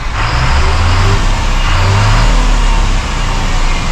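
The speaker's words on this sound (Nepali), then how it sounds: "अब यसको आवाज सुन्नु गाडीको" A 2021 Eicher Pro 6025 tipper truck engine runs steadily up close, a loud low rumble holding for about four seconds with a slight dip near the end.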